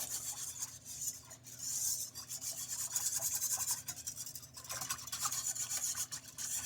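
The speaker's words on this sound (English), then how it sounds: "So just whisk it, whisk it, whisk it." Broccoli cheese soup being whisked in a pot: continuous rapid scraping and rubbing of a whisk against the pot bottom, close and steady with brief pauses, no talking.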